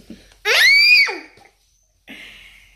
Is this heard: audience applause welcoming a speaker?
no